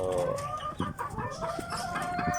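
Native heritage chickens cluck and murmur close by in a dense, continuous chorus of overlapping calls, with no talking.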